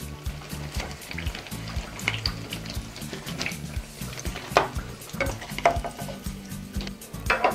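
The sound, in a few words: lauki (bottle gourd) pakoras frying in hot oil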